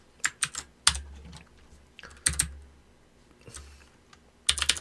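Numbers are typed on a computer keyboard in a quiet room: close, crisp key clicks come in short bursts with pauses between them, and a final quick cluster ends the sequence.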